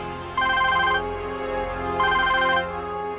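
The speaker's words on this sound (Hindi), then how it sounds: "उनका फोन बस आता ही होगा" A telephone rings in two electronic bursts separated by a short pause, clear and fairly close, with a low background hum under it.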